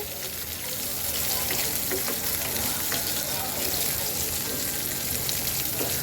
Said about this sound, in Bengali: তো বেগুনগুলো ভাজা হোক